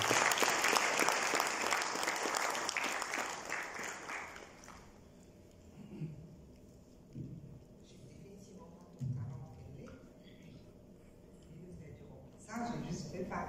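An audience at a book launch applauds warmly, with dense clapping for about four seconds that then fades out, before a speaker begins talking into a microphone.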